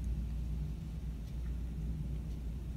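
Low, constant rumble of distant thunder rolling through during a severe thunderstorm in Wayne County, southeast Michigan, with no wind and the rain stopped, a steady far-off murmur filling the whole stretch.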